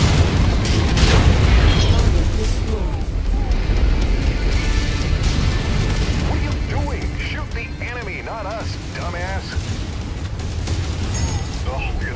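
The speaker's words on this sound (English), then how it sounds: "They've blown the fuel tank." Fuel tank explodes in MechWarrior 5: Mercenaries amid continuous heavy booming and rumbling combat noise, with voice chatter and radio-style speech over the din.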